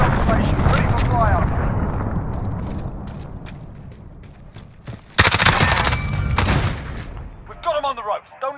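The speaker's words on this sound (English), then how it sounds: "Cruise missile away." Cruise missile launching and exploding in the video game Cyberz, a loud rumbling roar that fades, then a sharp blast and crackling barrage, with game voices over the action.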